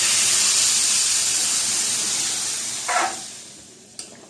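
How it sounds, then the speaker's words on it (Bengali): Hot water poured into a pan of frying rice for Bengali basanti pulao gives a loud, steady steamy hiss that slowly fades, with two short splashy bursts near the end. "এবার জল দিই,"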